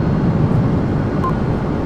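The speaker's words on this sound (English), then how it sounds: "Might actually break out my handy dandy Viking demonstrator amphibious aircraft for that one" Steady, low engine drone of a Viking demonstrator amphibious aircraft in a flight simulator game, a continuous rumbling hum at even loudness with no pauses and no voices.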